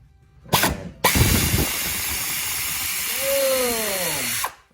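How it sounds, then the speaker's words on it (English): A ratcheting wrench working a starter bolt loose on a Honda CR-V, close and loud: two short clicks, then a long continuous rapid ratcheting buzz lasting several seconds before stopping. "what I like to use is a ratcheting wrench"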